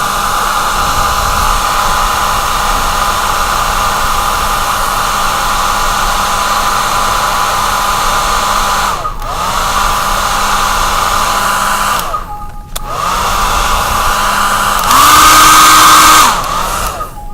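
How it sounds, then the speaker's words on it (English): Hair dryer blowing on watercolor paint, a loud steady whine and rush of air running continuously, briefly cutting off and restarting twice, then shifting to a higher setting near the end. "Hit it with the hairdryer."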